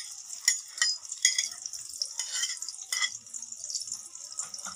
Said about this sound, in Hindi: ऑयल लेने के बाद हम इसमें प्याज ऐड कर देते हैं, प्याज को ब्राउन कर लेते हैं।